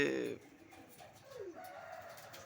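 Soft, low cooing of pigeons nearby, a few gentle rolling calls after a brief louder sound at the start.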